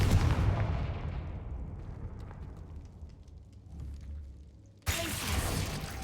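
A Confringo fire spell explosion in Hogwarts Legacy booms loudly and fades into a long rumbling tail, then a second sharp blast hits near the end, with no voices over it.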